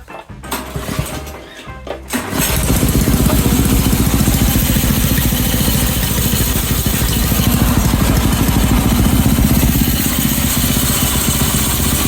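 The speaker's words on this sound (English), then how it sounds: "It does idle a little high." A small go-kart engine on a budget axle kit is pulled into life after a few seconds of handling noise, then holds a fast, high idle, loud and close, with a buzzing, rattly drone.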